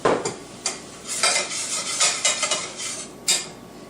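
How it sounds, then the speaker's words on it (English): Onions cook in a pan while a utensil stirs them, producing a string of scraping, clattering strokes of metal against the pan over a faint sizzle, close up and with no talking. "the onions are jumping out of the pan"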